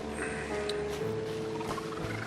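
Dolphins in the underwater game Submerged call with high warbling squeaks and chirps over a steady low hum, close and fairly loud for a couple of seconds.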